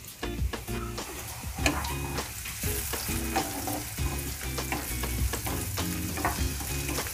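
Chopped beans, carrot and capsicum frying in a pan for paneer fried rice, a dense continuous sizzle broken by busy clattering stirs and ladle knocks, close up with no voices.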